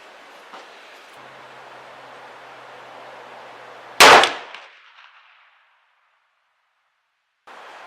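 A single loud, sharp report from a Remington 700 muzzleloader firing white hot pellets cuts through a low steady background hiss, then decays quickly into near silence.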